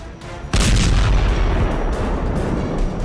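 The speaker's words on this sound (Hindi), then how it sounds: "रूस के नेवी बेस पर बरसी मिसाइल की डिटेल देख लीजिए" A Storm Shadow missile strike on a Russian naval base: a sudden, loud blast breaks in after half a second of quiet and becomes a sustained, heavy rumbling roar that fills the rest of the clip.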